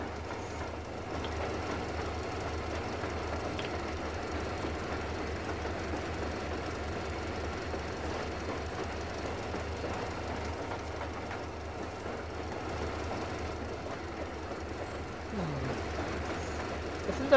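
A train rolls along its tracks in the post-apocalyptic Metro Exodus video game, giving a steady low rumble with faint clickety-clack and brief wheel squeals, continuous for about seventeen seconds with no speech.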